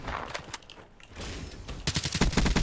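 Submachine gun fire in Black Ops 3 multiplayer, rapid bursts of automatic shots that grow louder and denser toward the end, close and dominant with no talk over it.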